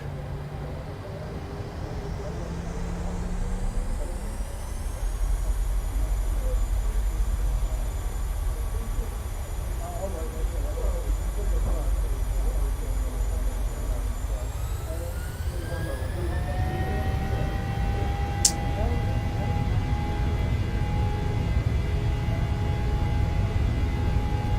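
Simulated Boeing 737-700 engines in Microsoft Flight Simulator spool up for the takeoff roll: a steady loud turbine roar with whining tones that climb in pitch partway through and then hold high.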